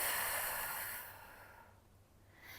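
A person breathing deeply during a Pilates exercise, a soft, airy exhale that fades out, followed by the start of another breath, close and quiet.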